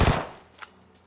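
Gunfire in PUBG Mobile on the Erangel map: a loud, close burst of rapid shots at the start fades quickly, followed by one fainter single report and a distant trailing crack.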